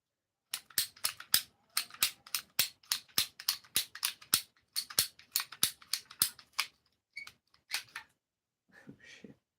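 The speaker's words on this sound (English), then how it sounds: "We're gonna use the pipe cutters to cut the lime." Pipe cutters snapping through a lime, a quick close run of about twenty sharp, crisp clicks at an even rhythm, thinning to a few scattered snips before stopping.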